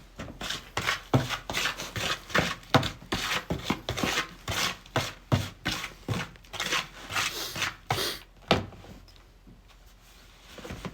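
Damp soil mix scraped on for soil blocking, heard as a rapid run of close, gritty scraping strokes in a steady rhythm that stops near the end, leaving quiet, with no talking.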